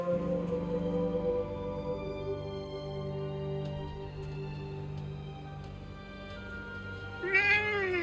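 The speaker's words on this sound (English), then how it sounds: "Hey, that cat." A cat meows in the video game Forspoken, a clear rising cry near the end over a steady, droning musical background, with no talking.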